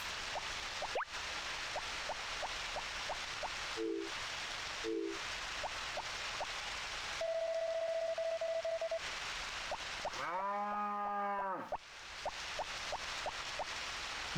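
A single low, drawn-out cow moo from the Harvest Moon: Back to Nature farming game rises over looping background music and short electronic tones, lasting just over a second.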